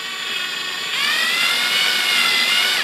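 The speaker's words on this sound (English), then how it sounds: "I'm just going to carefully drill downwards. I'm not going to go too fast on this, I'm just going to go slow." A low-torque drill whirs steadily as it slowly countersinks screw holes in a radiator fan, the high whine rising in pitch and loudness about a second in and then holding constant without talk.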